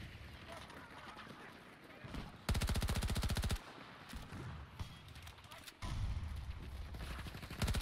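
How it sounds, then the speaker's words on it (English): SMG gunfire in the video game Battlefield 2042, rapid automatic bursts in two sharp stretches of about a second and two seconds over a busy battle background. "I'm using the new SMG."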